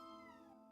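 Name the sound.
cat meowing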